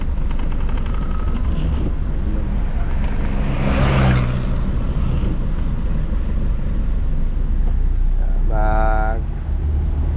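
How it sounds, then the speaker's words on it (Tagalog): Road traffic with cars passing by, a steady low rumble of engines and tires filling the scene throughout, with a voice briefly heard near the end over the noise. "Traffic."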